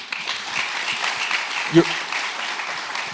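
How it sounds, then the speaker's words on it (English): Scattered, moderate applause from an audience at a Pennsylvania policy panel, a soft continuous patter of clapping that holds steady, with a brief sharp thump partway through and voices underneath. "Let him clap, Toby"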